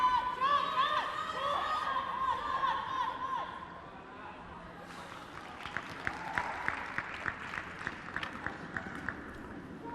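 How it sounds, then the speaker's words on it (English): Audience applause at a women's curling match in Stockholm, with Sidorova of Russia facing Homan of Canada: a steady wash of crowd clapping fading after a few seconds, then lighter scattered claps with crowd murmur behind. "We can hear the audience applauding."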